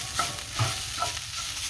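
Rice frying with onions and tomato paste in a pan at a camp, giving a brief, steady hiss and sizzle with a few soft stirring scrapes, close by and with no talk.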